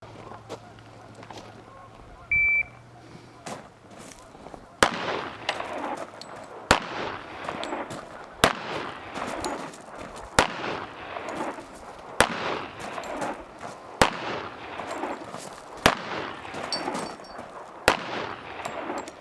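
A 1911 pistol fires during a shooting-competition stage: about ten sharp, loud shots spaced roughly every second and a half to two seconds, each followed by ringing echo, after a quieter lead-in.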